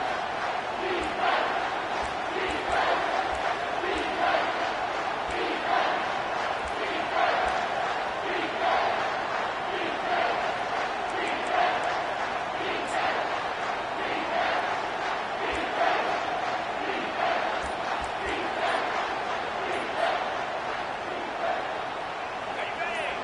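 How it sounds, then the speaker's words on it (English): A large crowd at a Clemson football game roars in a sustained, swelling wall of cheering and shouting, dense and fairly distant, with a commentator talking over it. "this crowd is bringing down the house"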